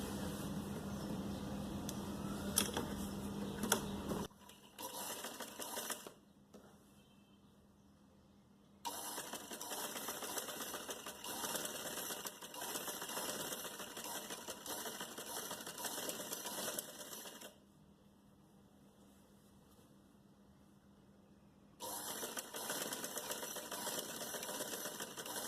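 Sewing machine stitching a summer plazo, close steady motor runs broken by two short pauses, with a faint background hum throughout.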